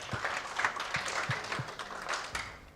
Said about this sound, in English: Let's clap for Felix.